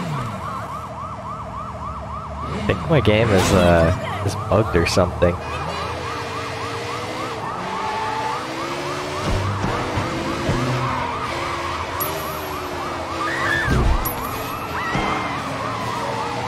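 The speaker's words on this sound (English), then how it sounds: "Why does the siren noise keep coming back?" A police siren from the video game Sleeping Dogs: Definitive Edition wails in a steady repeating rise and fall for the whole stretch, loud and close, mixed with car engine noise, crashes and someone talking over it.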